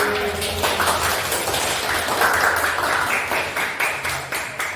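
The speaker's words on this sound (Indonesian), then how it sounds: "kasih tepuk tangan dulu deh" Teachers in a training session give a round of applause, a steady wash of many hands clapping together at moderate volume for several seconds, tapering toward the end.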